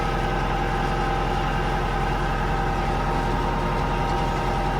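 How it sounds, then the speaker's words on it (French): A tractor engine runs steadily during potato planting, a loud, continuous low rumble with an even throb and no pauses, heard close up without talk. "il faut être bien précis avec le tracteur pour le piquage"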